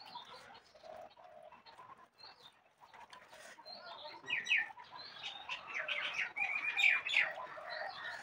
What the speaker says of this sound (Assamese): আমাৰ ইয়াত ঢেৰ চৰাই চিৰিকটি আছে, ভাত খাবৰ সময়তে কান্দি থাকে